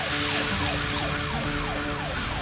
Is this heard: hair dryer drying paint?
no